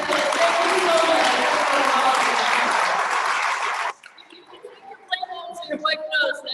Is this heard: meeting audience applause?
yes